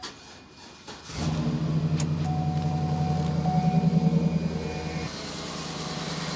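A Cadillac Escalade engine with the throttle held open, running on seven cylinders with a loose spark plug wire, rises from a quiet idle into a steady loud roar with a rhythmic pulsing lope, then settles slightly near the end.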